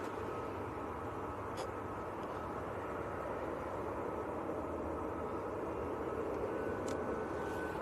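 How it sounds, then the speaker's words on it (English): A small business jet taxis past at Manchester Airport, a steady low engine rumble and whine holding evenly from a moderate distance. "That's a very nice little bizjet."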